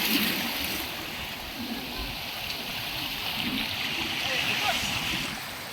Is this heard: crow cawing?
no